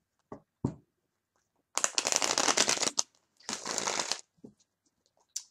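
Tarot cards being riffle shuffled, a few light taps and flicks followed by two dense, crisp bursts of cards fluttering together, close and alone.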